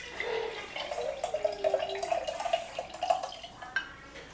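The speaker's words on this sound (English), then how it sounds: "So because I'm using a mason jar, I'm just gonna pour." Liquid poured into a glass mason jar for a homemade hydrosol, a continuous trickling, gurgling stream with rising pitch as the jar fills, close and clear, with small drips toward the end.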